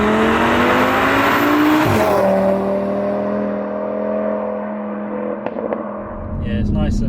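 A 650 bhp Audi RS3 revs hard while driving and then catches as the revs drop sharply, the engine settling into a steady lower drone with a few clicks and some background noise.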